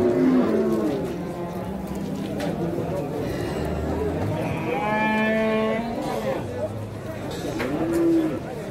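Cattle, including dairy cows with calves, moo at a livestock market in Dushanbe, with several drawn-out lows near and farther off over a constant background of crowd chatter and nearby voices.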